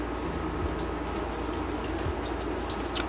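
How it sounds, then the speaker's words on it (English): Water drains steadily from a portable washing machine after its drainage seal is opened, a continuous close rushing gush with faint bubbling, no voices. "I popped open the drainage seal and drained the machine."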